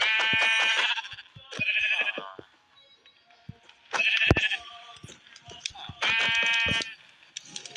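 Several loud, nasal sheep bleats come in separate bursts close by, with short quiet gaps and soft rustling between them.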